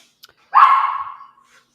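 A dog gives a single drawn-out bark or yelp, close and fairly loud, in a house where a couple is packing to move; it comes after a short tap and fades out gradually.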